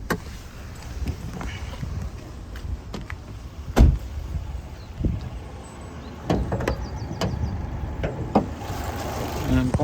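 The bonnet of a Fiat Tipo car is released and lifted: scattered clicks and rattles, then a solid close thunk, over a low background hum with some talking.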